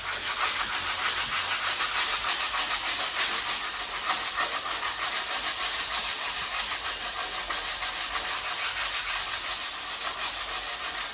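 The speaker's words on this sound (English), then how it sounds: "And basically just keep rubbing it down till the whole thing's smooth." Sandpaper rubbing down a heavy rear brake drum from a Vauxhall Corsa C, a steady, close, continuous abrasive hiss that keeps the same even back-and-forth scraping texture throughout with no pauses.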